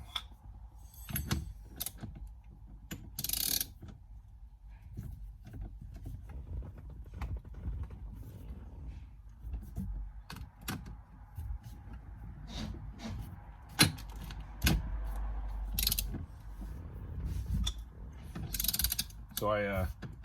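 Ratchet clicking as it works loose the large 24mm steering wheel nut on a Porsche Boxster or 911, quiet intermittent ratcheting and metallic clicks close by with faint clunks.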